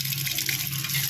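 Glutinous rice is washed in water, giving a brief, soft, steady rush and swish of liquid close by.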